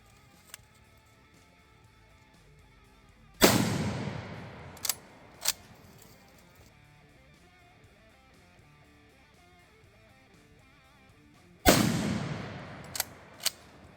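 Swiss K11 carbine firing 7.5x55mm rounds at an outdoor range: two loud, sharp rifle reports several seconds apart, each with a long fading echo, followed by fainter metallic clicks of the bolt being worked.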